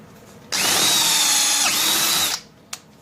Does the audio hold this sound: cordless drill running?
yes